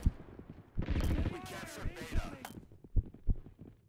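A grenade blast in the Roblox game, a loud broadband burst with crackling debris lasting over a second, followed by scattered gunshot-like pops, with people talking around it.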